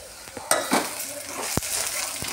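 Ginger garlic paste being stirred into fried onions in a pan for tomato rice, with soft sizzling under a few close scrapes and clinks of a spoon on the pan.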